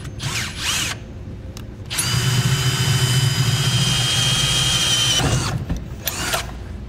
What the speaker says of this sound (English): we're going to use a 3/4 inch hole saw